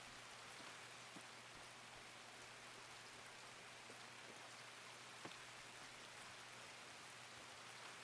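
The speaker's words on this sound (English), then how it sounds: "That's why the rain's so damn loud." Steady rain hisses and patters in the Escape from Tarkov video game, a soft, even wash of drops with an occasional sharper tap, faint and continuous with no talk.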